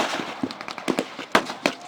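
Simulated Spitfire strafing at a World War II reenactment comes across as a rapid, uneven string of sharp pops and cracks, loud and fairly close, with irregular gaps between bursts.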